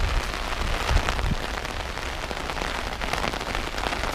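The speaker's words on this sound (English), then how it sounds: "it's really raining a lot" Heavy rain pours steadily in a castle park in Wezembeek-Oppem, Belgium, a dense, even hiss of drops striking surfaces nearby with no voices.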